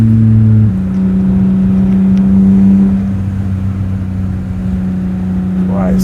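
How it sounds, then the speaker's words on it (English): S54-swapped BMW E30 engine pulling under load while driving, a loud steady drone with strong induction noise that shifts pitch as it accelerates, heard close from inside the car with faint voices in the background. "I love how much induction noise you get."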